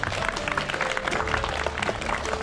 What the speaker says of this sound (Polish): Wielkie oklaski dla pary walczących